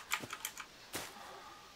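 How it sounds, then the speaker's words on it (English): Computer keyboard keys clatter in a short burst of crisp, fairly close taps at an uneven rhythm, then one louder stroke, with no talking. "let me get a different keyboard because it seems like it might be loud"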